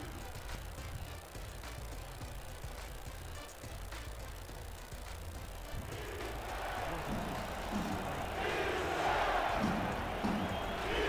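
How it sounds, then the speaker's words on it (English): A stadium crowd at Estadio Azteca chants defense on fourth down late in a football championship game, a broad roaring wash of many voices that swells louder over the last few seconds. "Crowd chanting defense here at Estadio Azteca"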